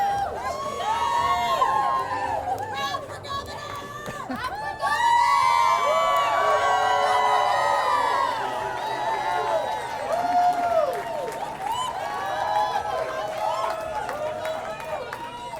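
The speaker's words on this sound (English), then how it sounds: "What a crowd." A large crowd at a political campaign announcement rally cheers, whoops and shouts continuously, a dense, loud swell of many voices that surges again midway through.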